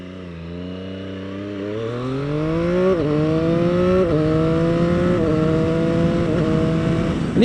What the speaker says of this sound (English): Get another chance to demo the quick shifter up here as they take off from this red light